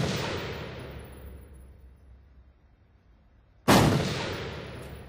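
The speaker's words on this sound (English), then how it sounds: "The courses of fire during the daytime with your handgun go up to 25 yards." Two loud handgun shots ring out on a police firearms qualification range, several seconds apart, each a sharp blast that trails off in a long echoing decay.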